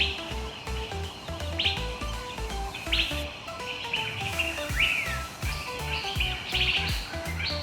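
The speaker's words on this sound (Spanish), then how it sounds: "Este es un pájaro." Bird chirping in repeated bright tweets and short whistled calls, loud and close, over a steady musical backing track with no talking.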